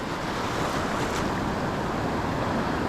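Continuous roar of ocean surf breaking on an Oregon beach at Rockaway, with steady wind noise across the microphone and no voices.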